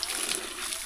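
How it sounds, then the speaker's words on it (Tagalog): Spring water flowing freely at a cacao farm, a steady broadband splashing and trickling that runs continuously for under a second at moderate level. "Walang bayad ng tubig dito, yan ang bukal"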